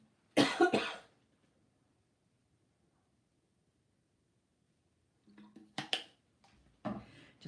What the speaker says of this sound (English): Just one of those annoying little tickly coughs.